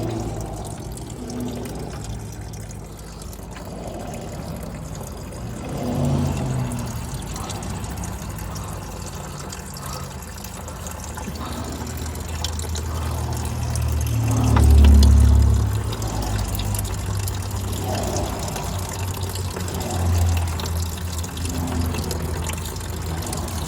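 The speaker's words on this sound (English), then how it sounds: "So guys, the fluid is draining." Fluid drains from a 2010 BMW 535i during service, a steady, close trickling pour over a low rumble that swells and eases in places, with no one talking.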